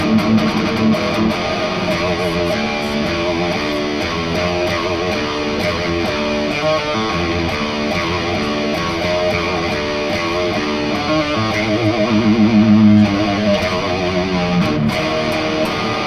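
A high-gain electric guitar plays through an MLC amp, heard loud and continuous as thick, distorted riffs and chugging chords with heavy low-end chunk.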